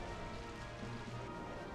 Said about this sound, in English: Oh, Rain Dance, interesting.